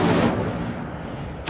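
Incendio fire spell cast in the Hogwarts Legacy video game, a sharp blasting onset that decays into a rushing fiery roar, cut by a second sudden burst right at the end.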